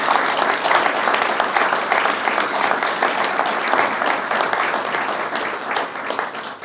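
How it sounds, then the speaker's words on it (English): Sustained applause from an audience at a Massachusetts free community college celebration, a dense, steady wash of clapping that holds loud throughout and eases only slightly toward the end. "They certainly deserve that round of applause"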